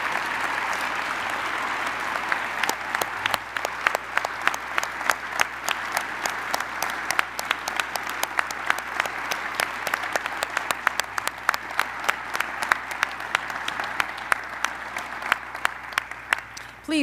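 A standing audience at a mayoral bronze medallion ceremony applauds its honorees with steady, sustained clapping, a dense rattle of many hands heard at moderate distance and continuing without a break.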